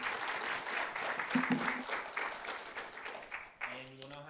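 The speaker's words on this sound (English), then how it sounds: "Well, another round of applause for Professor Van Hoffman." Audience applause at a law review symposium honoring a professor, a steady wash of clapping from a seated crowd that fades near the end as a voice begins speaking.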